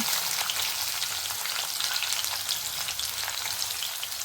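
Onions sizzle steadily in hot oil in a pan while pesara pappu (moong dal) is cooked, a soft, even crackle with no voices.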